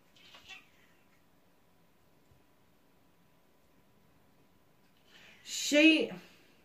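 A cat lets out a loud, drawn-out meow nearby, preceded earlier by a faint brief sound in an otherwise quiet room.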